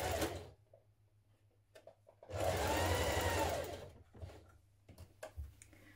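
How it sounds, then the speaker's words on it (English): A sewing machine stitches a shirt-dress collar along its long unnotched edge and sides, with a brief buzz at the start, a long loud steady run in the middle, then short bursts. "we're going to stitch around the long unnotched edge and up the sides"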